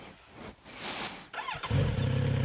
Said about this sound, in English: I absolutely love the way this motorcycle sounds on startup